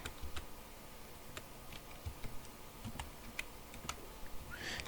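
A password is typed on a computer keyboard while logging in to an online SSC exam form: close, quiet irregular key clicks tapping in short bursts with small pauses, and no talking.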